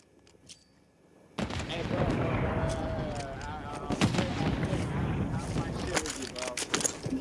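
A grenade goes off against an enemy in Warzone: after a quiet start, a sudden loud blast gives way to rumbling, crackling gunfire and sharp shots, with a voice speaking over the battle.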